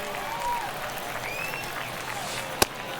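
Baseball video game stadium crowd in the ninth inning of a one-run game, a steady roar of cheering and applause with a sharp clap or crack near the end, under broadcast-style commentary.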